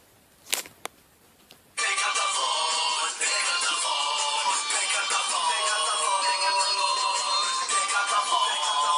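A Beethoven 5 pickup ringtone that starts after a few faint clicks, then plays loud and continuous, bright and busy, filling the rest of the clip.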